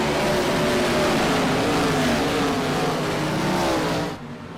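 A pack of IROC race cars accelerating hard on a restart at Irwindale, a dense, loud roar of many engines revving together for several seconds before cutting off abruptly.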